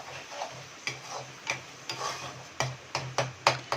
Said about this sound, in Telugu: మనం ఒక గరిటెతోటి అక్కడక్కడ స్మాష్ చేస్తూ తిప్పుతూ ఉండాలండి